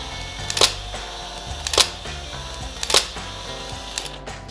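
A Hasselblad medium format camera shutter firing continuously, giving four sharp, loud mechanical clacks at a steady rhythm about a second apart with low whirring in between.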